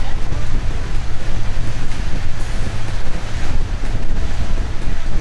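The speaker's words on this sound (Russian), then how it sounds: "Водное такси прибыло в Йоидо через 10 минут." A water taxi cruises on the Han River. Loud gusting wind buffets the microphone over rushing water and a low, continuous boat rumble, all close and unbroken.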